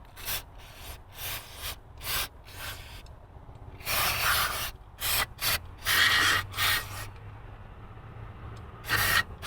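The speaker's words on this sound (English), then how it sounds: "And then just wipe it down." A rag wiping down the throttle body of a 1999–2004 Jeep Grand Cherokee, a run of close, uneven rubbing and scrubbing strokes that grow denser and louder midway, some with a faint squeak.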